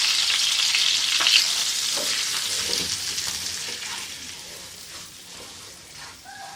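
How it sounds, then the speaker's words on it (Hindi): Semolina roasting in melted ghee in a pan for aloe vera halwa, a bright continuous frying hiss with intermittent scraping stirs, close up, gradually easing in loudness, no voices. "अब हम इसमें सूजी डालेंगे। इसको हम अच्छे तरीके से भूनेंगे।"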